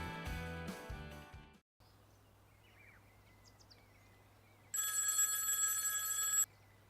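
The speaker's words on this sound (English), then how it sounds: "I can't believe my phone works out here." A telephone rings outdoors by a river with birds in the background, one sustained bright trilling burst of about two seconds, loud and close, following a short stretch of music and quiet ambience.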